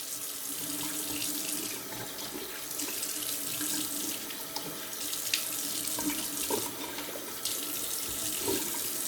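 Running tap water splashes steadily into a sink as a badger shaving brush is rinsed beneath it, a continuous close hiss and patter with small shifts as the brush moves through the stream.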